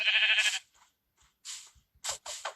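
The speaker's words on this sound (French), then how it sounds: "Tiens, je sais pas si c'est Monsieur Mouton. Déjà, comment on fait pour teindre un mouton?" Sheep in the Minecraft video game bleat in several short separate calls, the first long and loud, then quieter and clipped ones, with no speech.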